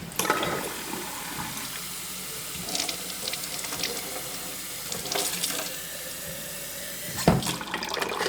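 Tap water runs into a jar to soak seeds, a steady splashing hiss with shifting tone as it fills, plus a sharp clunk near the end.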